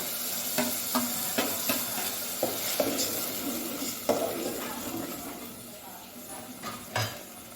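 Coriander and garlic paste sautéing in oil in a pan, a low steady sizzle broken by sharp metal spoon taps and scraping against the pan, close and fairly quiet.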